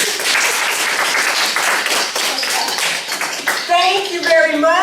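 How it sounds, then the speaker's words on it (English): Sustained audience applause with dense clapping at a university health and aging center event, loud and continuous before a voice begins speaking over it near the end. "please join me for a round of applause again"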